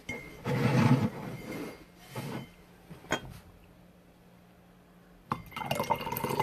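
Rose tea poured from a pot into a cup, a short liquid pour with clinks and drips, then a second brief splash and a later burst of pouring and dripping, close and alone.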